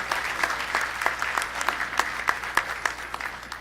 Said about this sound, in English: A better round of applause for Madam Hope.